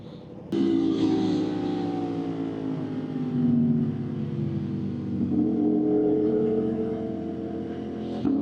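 Honda CBR600RR sportbike revving hard under a power wheelie, a loud, close, sustained engine note that surges in pitch after a sudden start, eases off, then climbs again.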